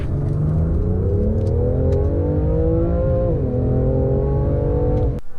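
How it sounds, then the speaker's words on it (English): A 2018 BMW M3 Competition accelerates hard on a dry road in a 30 to 70 mph sprint, engine note climbing steadily and loudly with a brief dip at a gear change before rising again, close and continuous. "Let me show you with a 30 to 70 sprint."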